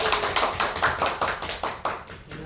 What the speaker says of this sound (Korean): 큰 박수를 맞으시기 바랍니다.